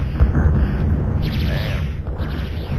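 Rocket launcher blasts in a real-time strategy game battle, a rumbling low explosion mix with a few bursts layered over continuous battle noise, fairly loud and dense throughout.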